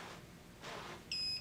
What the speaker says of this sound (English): you get that series of beeps